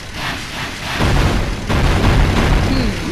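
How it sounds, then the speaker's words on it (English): Heavy booming blasts of gunfire in a video game hit with a deep thud, one at about a second in and another just after, with rumbling noise between them. "Wait, is he shooting with a gun right now?"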